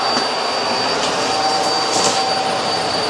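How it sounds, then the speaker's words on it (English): A Eureka Flash vacuum cleaner runs loud and steady on hard floor, a constant whooshing roar with faint rattles of debris being picked up. "If you move the head like this, it does force the machine to pick up the debris."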